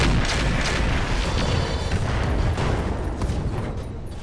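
Heavy mech weapons fire in the Roguetech battle game, a dense, continuous barrage of loud booms and blasts filling the whole stretch without pause.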